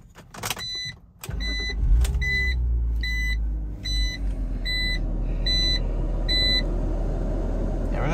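A 2005 BMW Z4 2.5i starting up: a click, then the engine cranks and catches into a steady idle while a chime beeps repeatedly in an even rhythm, close and clear.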